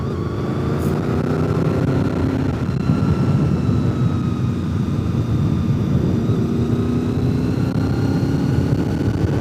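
A Honda VFR motorcycle, owned for 24 years, cruises along the road with a steady engine drone whose pitch shifts gently, mixed with constant wind rush, close and continuous with no talking.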